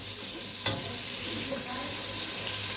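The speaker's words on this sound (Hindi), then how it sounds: "ये देखें ये फ्राई हो रहा है चिकन।" Chicken pieces fry in a pan for a spinach chicken dish, producing a steady moderate sizzle with one sharp utensil knock early on and light stirring noises after.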